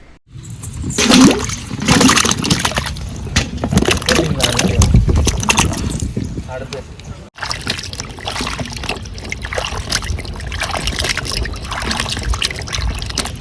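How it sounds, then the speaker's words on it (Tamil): Raw mangoes washed in water for pickle-making: loud, continuous sloshing and splashing of water, with a brief break partway through. "எல்லாமே நல்லா கழுவி எடுத்தாச்சு."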